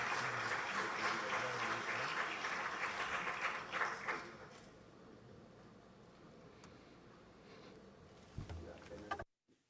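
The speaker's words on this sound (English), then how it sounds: "Let's give her a round of applause," Applause from a crowd rattles loudly for about four seconds, then fades into quiet room noise with a few faint sounds.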